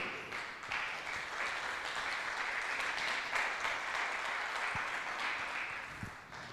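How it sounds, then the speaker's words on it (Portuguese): Congregation applauding at a church service, a steady, dense wash of clapping that holds at even strength throughout, with no voices over it. "Palmas para Jesus"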